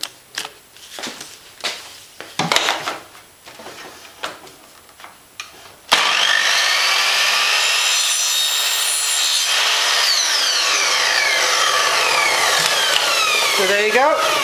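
A handsaw rasps through a tapered plastic vacuum hose in quick, loud strokes, then a continuous loud whirring power tool runs steadily for several seconds.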